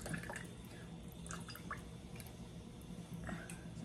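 Soft dripping and squishing as fresh lime is squeezed into a tequila and Aperol martini, faint wet trickles and small splashes close by, quiet with no talk.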